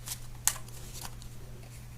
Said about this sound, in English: Alright, and we'll do one more shuffle.